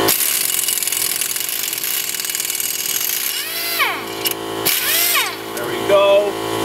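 A power tool spins out a bolt on the front brake of a 2002 Honda CR-V, whirring steadily and then rising and falling in short bursts near the mic, with a person talking over it.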